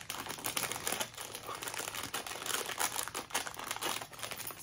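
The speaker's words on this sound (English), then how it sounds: "Sorry for the crinkling." Plastic packaging crinkling close up as Temu items are handled, a continuous crackly rustle with sharper bursts, fairly loud and with no talk over it.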